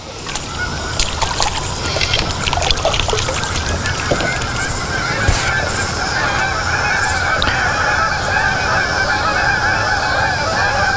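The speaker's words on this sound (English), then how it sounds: "There's a bunch of geese." A flock of geese honks repeatedly near water at a fishing spot in September, overlapping calls ringing out at close to moderate distance over constant outdoor background noise, with no talking.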